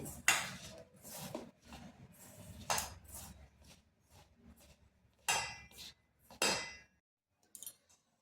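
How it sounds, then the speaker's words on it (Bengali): Dry semolina snack ingredients with a pinch of baking powder are stirred together in a bowl. Sharp clinks and scrapes of a utensil against the bowl come in irregular bursts, with quiet gaps between them. "এবার শুকনো উপকরণগুলি ভালোভাবে মিশিয়ে নিচ্ছি"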